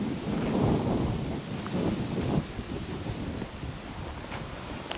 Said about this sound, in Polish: Ale wieje dzisiaj ostro, ostro.